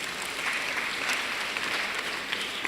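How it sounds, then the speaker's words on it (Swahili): Applause from a church congregation during a Kikuyu-language service, a steady broad wash of clapping that holds at an even level throughout with no voices over it. "Tumpigie makofi."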